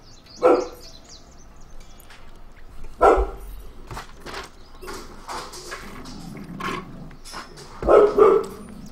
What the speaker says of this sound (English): Silly dogs, silly dogs.